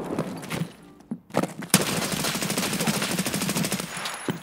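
Automatic gunfire rattles in the video game Escape from Tarkov, a loud sustained burst of rapid close shots after a few brief opening volleys.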